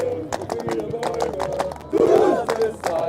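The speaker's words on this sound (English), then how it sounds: "And the crowd starts chanting, the French crowd supporting Toulouse" A French crowd chants in rhythmic bursts at a table tennis event in Paris, with loud, repeated shouts and voices rising and falling around the arena.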